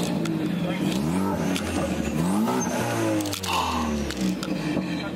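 On a cold day, a car engine turns on and runs, its tone rising and falling as it revs, with steady mechanical hum beneath.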